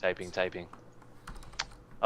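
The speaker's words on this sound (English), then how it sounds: "Typing." A computer keyboard is typed on in quick bursts of clicky keystrokes. Someone speaks briefly at the start, then sparse, fairly close keypresses follow.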